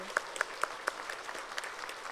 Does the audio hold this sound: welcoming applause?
yes